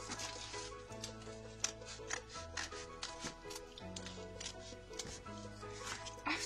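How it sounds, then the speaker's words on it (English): Scissors snip through paper to cut out a heart shape, giving a steady run of faint, crisp cuts beneath soft background music. "Then we're gonna bring the scissors and carefully cut the heart."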